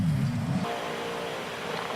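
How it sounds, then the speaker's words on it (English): Dell XPS 9570 laptop fans spinning hard under gaming load, a loud steady broadband whoosh with a lower rumbling hum at the start, continuous and close with no voices. "under load the notebook's fans do sound like a small airliner taking off"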